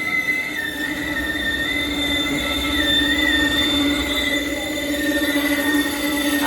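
The New River Train arrives in Hinton, West Virginia, its wheels squealing in sustained, wavering high-pitched tones over a steady rolling rumble of railcars, close and continuous.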